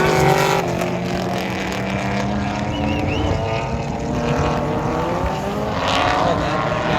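A race car runs on a wet track in the rain, its engine drone loud and sustained with shifting tones as it circulates, accompanied by a broad hiss of spray.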